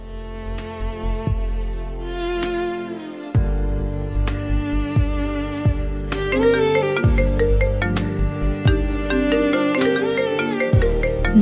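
A phone plays a melodic ringtone during an outgoing call in a Bangla drama, a loud, clear musical tune with repeating notes that keeps going without any talking.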